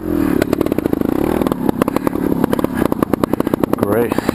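Enduro dirt bike with a damaged muffler revving loudly and close, a harsh rapid popping engine note rising and falling in bursts, with a voice speaking over it.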